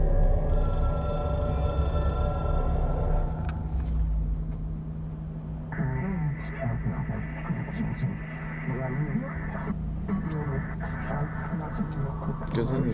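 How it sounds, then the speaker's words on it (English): A telephone rings repeatedly in the video game Control, its bell tone pulsing steadily over a low ambient hum and moody background, with a voice talking in the first seconds. "About time somebody answered that phone."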